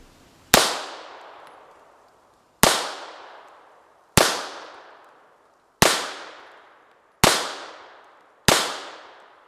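A Japanese Type 94 pistol fires 100-grain rounds: six loud, sharp shots spaced a second or two apart, each with a ringing outdoor decay, and no speech between them.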